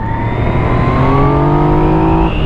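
A 2017 Yamaha MT-09 motorcycle revs hard and accelerates close by, its engine note climbing steadily in pitch through one loud sustained pull before easing off at the end.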